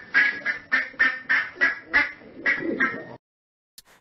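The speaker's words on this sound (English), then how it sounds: "They also have Audiogen to create sounds like ducks or chickens." AI-generated duck quacking from Audiogen: a rapid series of about eight nasal quacks in a steady rhythm, close and clear, ending abruptly in silence.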